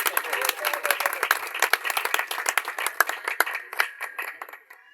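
Church congregation clapping at a Christian worship gathering, a brisk burst of many hands with sharp individual claps, moderately loud, fading out at the end.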